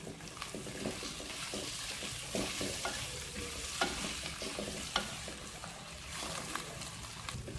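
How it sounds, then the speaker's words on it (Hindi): Bell pepper fries for chicken chow mein, a steady sizzle heard fairly faintly, with repeated stirring scrapes and clinks against the pan throughout and no talking. "अब इसके अंदर हम शिमला मिर्च ऐड करके फ्राई करेंगे।"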